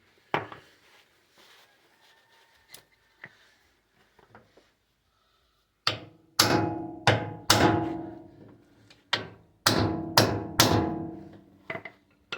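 Hammer blows on a Dana 44 axle u-joint, a few soft taps at first, then a series of loud, ringing metallic strikes close by, landing in irregular pairs and clusters, with no talking.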